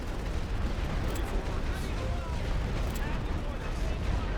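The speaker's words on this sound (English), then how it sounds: "Just triple up the barrage." A continuous, rumbling World War I artillery barrage at Passchendaele on the Western Front in a strategy video game, dense low booms blending into a steady roar with a few sharper distant cracks, under a speaking voice.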